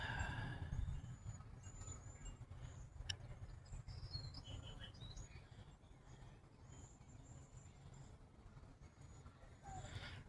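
Birds at a feeder chirping in short high tweets scattered over a steady low outdoor rumble, some calls near and some faint, with a brief sharp click midway.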